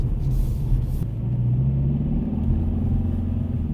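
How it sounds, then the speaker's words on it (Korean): Kia K3 GT petrol turbo at low RPM, its sound generator making the engine sound like a diesel: a continuous, fairly loud, low, rumbling drone from inside the car with no talking. "저 RPM 구간에서 뭔가 이건 분명히 가솔린 터보 차인데 디젤 차인 것 같은 소리가 나고 있습니다."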